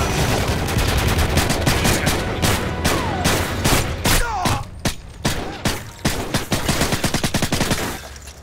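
Rapid gunfire bursts and single shots from a Call of Duty match, dense and loud throughout, with a faint voice underneath.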